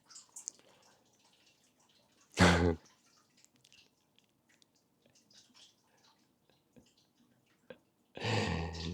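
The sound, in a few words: water running and dripping from a leaking tap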